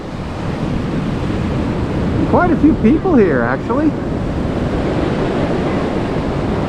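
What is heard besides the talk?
ocean waves rolling onto a beach at high tide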